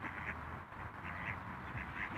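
Domestic ducks quack in short repeated bursts, a few honking calls spaced through a quiet outdoor setting at moderate distance.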